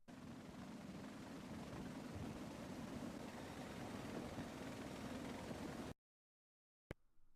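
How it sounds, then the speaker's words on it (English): A helicopter carrying heavy cargo comes in to refuel, giving a dense, steady whirring roar that holds for about six seconds before cutting off abruptly into silence. "Here's some beautiful footage of a helicopter coming to refuel while also carrying some heavy"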